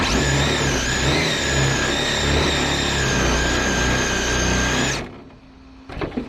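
Losi 22s RC drag car accelerating on a test pass, a high whining motor held steady and loud for several seconds before cutting off abruptly, leaving faint clicks.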